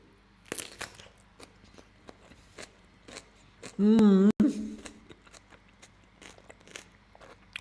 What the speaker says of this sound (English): Why am I watching some dude eating a cucumber here?